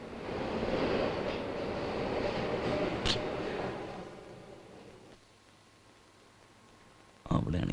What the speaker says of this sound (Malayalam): ട്രെയിൻ വന്നല്ലോ സീനിയർ.